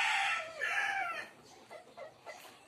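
A blue face hatch gamefowl rooster in a breeding flypen crows loudly and close up, one long strained call lasting over a second, followed by softer clucks and rustling.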